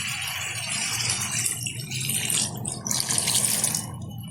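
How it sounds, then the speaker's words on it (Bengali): Water pours steadily into a pot of browned mutton curry for a Jaipur-style festive dish, a continuous splashing rush with faint rattling, close and fairly loud, with no voices. "এখন দিয়ে দেবো এর মধ্যে পরিমাণ মতো জল"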